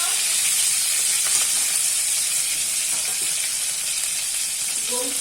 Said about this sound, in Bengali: চিংড়ি মাছটা ভাজা হচ্ছে, লাল হয়ে গেছে